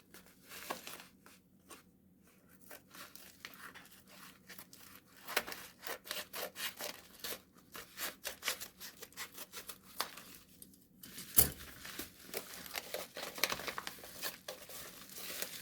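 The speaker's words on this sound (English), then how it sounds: "let's crack the package open" A shipping package is cut and torn open close up, with scraping, rustling and crinkling in short bursts and small pauses between them.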